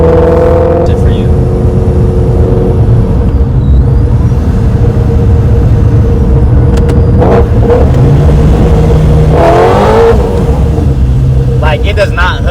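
Supercharged Ford Mustang GT350 under a hard pull with wheels spinning, a loud, continuous engine roar rising in pitch toward the end, very close and dominant.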